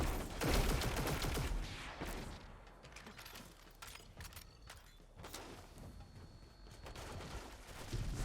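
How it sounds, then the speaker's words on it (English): Gjallarhorn rocket launcher firing in Destiny 2, a burst of heavy blasts and explosions at the start followed by further booming shots and rumbling impacts across the stretch, loud and dense with game effects. "And now I'm going to launch 2 more Gjallarhorn shots"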